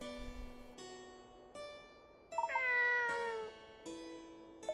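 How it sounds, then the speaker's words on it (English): A cat in the Layton's Mystery Journey video game gives several distinct meows over game music, with one louder, drawn-out call in the middle and a short mew at the end. "now there's a cat over here."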